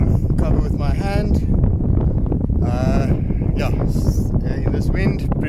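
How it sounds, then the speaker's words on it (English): Strong gusty wind buffets the microphone at an outdoor shooting range, a steady loud rumble throughout, while a person talks over it. "This is crazy wind."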